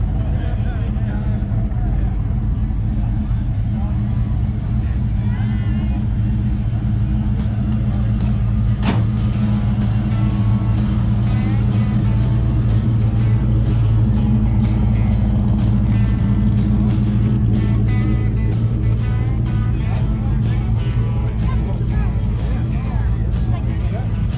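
An old truck at a truck show gives off a steady, deep engine rumble that stays loud and close throughout, with a person talking over it.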